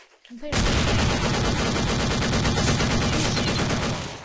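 Rapid, loud automatic gunfire from a Counter-Strike-style shooter game, a dense continuous burst of shots that starts abruptly and runs for about four seconds close up, with no voices over it.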